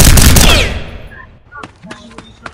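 Rapid video game gunfire in a dense, loud volley that quickly decays, followed by a few scattered clicks and faint tones.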